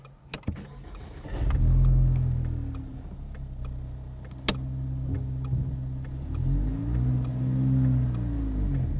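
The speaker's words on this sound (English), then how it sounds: "You were perfect there, just give it a little more gas." A manual transmission car climbs a steep hill, its engine giving a low rumble that swells as it accelerates, eases, then builds again, with a sharp clunk partway through.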